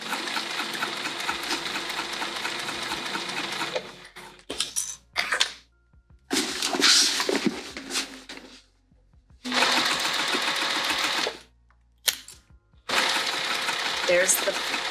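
Sewing machine stitching along the top edge of a tote bag, running in several steady bursts separated by short pauses with small handling clicks between, close and fairly loud.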